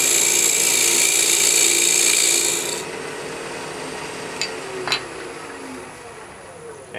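An acrylic piece spins on a lathe at roughly 1,500 to 1,800 RPM while a tool trues up its inside edge, giving a steady, loud scraping rasp that stops abruptly partway through, leaving quiet room tone with a couple of faint clicks.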